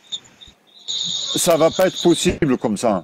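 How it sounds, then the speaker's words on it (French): Crickets chirp faintly into the microphones during a heated interreligious debate: a thin, steady trill that stands alone at first, then continues beneath several people speaking loudly. "il y a des grillons là-bas dans les micros"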